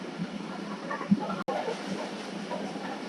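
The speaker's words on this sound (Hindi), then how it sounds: "अभी यहाँ से ये रेल निकल गया।" A train rolls past near Dabheji village with a steady rumbling clatter and hiss from the cars, heard at moderate distance.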